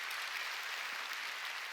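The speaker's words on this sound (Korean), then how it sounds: "깨달았으면 박수 좀 치라니까" Congregation applauding during a Sunday church service, a brief dense burst of many hands clapping at steady volume throughout.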